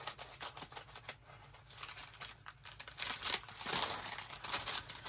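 Close, crisp snipping and crinkling of scissors cutting through paper, a steady series of small cuts with no voices.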